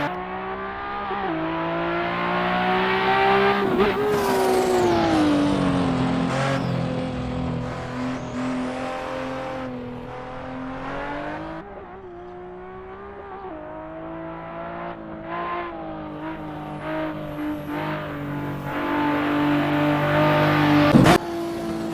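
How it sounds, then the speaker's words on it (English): A Japanese car engine in Assetto Corsa revs hard, its pitch climbing and dropping through gear changes with a few sharp shift blips, loud and continuous with no voices. "I don't know if they've really nailed the sound of the Japanese cars"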